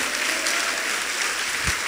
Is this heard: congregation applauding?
yes